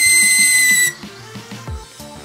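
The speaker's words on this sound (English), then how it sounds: "Kind of a hard whistle there too." A loud, steady high-pitched whistle from an airbrush being backfed with mixed paint fills the first second, then cuts off, leaving quieter bubbling and low scattered sounds.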